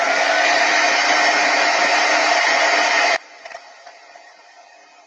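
Heat gun blasting hot air onto a Chalk Couture chalk transfer, a loud steady broadband whoosh for about three seconds that cuts off abruptly, leaving faint room noise with a few small knocks.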